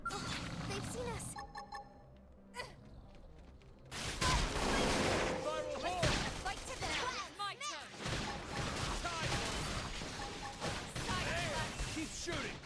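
Rapid gunfire and blasts in Xenoblade Chronicles X, loud and dense with chaotic bursts and whooshes throughout, with someone talking over the battle.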